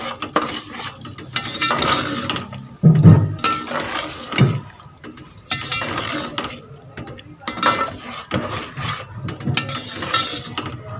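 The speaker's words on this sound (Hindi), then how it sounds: "अब इसको मिक्स कर लेंगे।" Eggplant and potato curry stirred in a pan with garam masala and fresh coriander, giving steady scraping, clinking strokes of a spoon against the pan over a light sizzle, loud and close.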